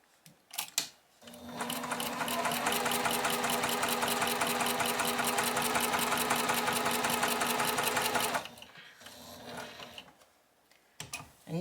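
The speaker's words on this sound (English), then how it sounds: "start stitching in the other direction" Sewing machine stitching a quilt block, a fast steady mechanical whirr of needle strokes running about seven seconds before stopping, close and fairly loud, with brief handling noises either side.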